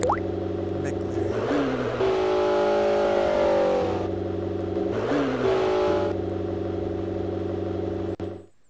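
A McLaren's engine in the video game Garry's Mod hums loudly and steadily, rising and falling in pitch as it revs, with no one speaking, before it cuts off at the end.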